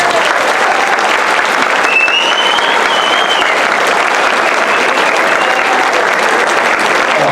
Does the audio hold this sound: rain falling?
no